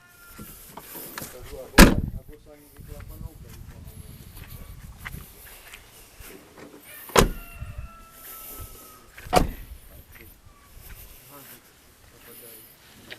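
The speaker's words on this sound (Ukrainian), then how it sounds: "Зараз ми закриємо двері всі." Doors of a Nissan car are shut one after another, giving three sharp, loud thuds spread across the stretch, while someone talks quietly in between.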